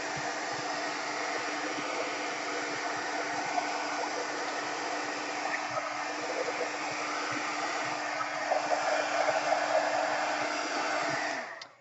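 A hair dryer blows continuously to dry a surface for paper crafting, a steady loud whooshing hum that holds at one level before cutting off at the very end.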